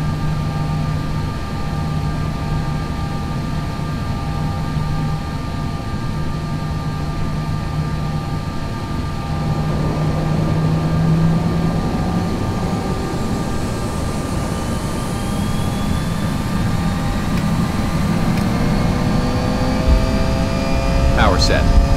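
Airbus jet engines at takeoff in X-Plane 11, a steady loud roar with a rising whine building toward the end, continuous throughout.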